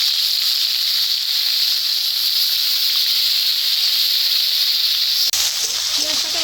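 Onion paste hits hot oil in a pan while a fish curry is cooked, giving a loud, steady broadband sizzle that holds throughout with a brief clatter near the end.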